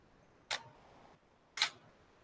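Camera shutter firing twice at an exposure of roughly half a second, two crisp sharp clicks about a second apart, close and clear over quiet background.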